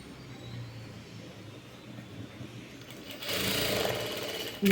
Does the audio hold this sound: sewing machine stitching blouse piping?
yes